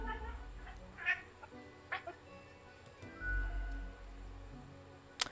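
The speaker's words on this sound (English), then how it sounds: "Why am I talking to a cat?" In the Death and Taxes video game, a cat gives a couple of short meows over a soft ticking and faint background music, with a few brief louder blips.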